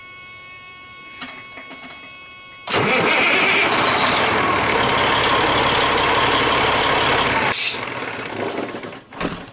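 A big truck engine starts after a starter replacement. After a faint whir and clicks it catches with a sudden loud roar, runs steadily for about five seconds, then settles and drops to a lower rumble.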